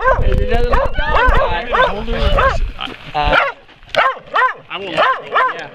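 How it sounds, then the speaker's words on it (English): A small dog yaps in rapid repeated barks with whimpering pitch, loud and close, while people talk over it outdoors. "Look, there's a little dog."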